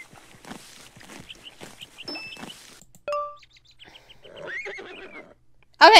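A horse whinnies in a My Little Pony video game, a clear rising neigh near the end after soft game chimes and tones, with a loud burst closing it.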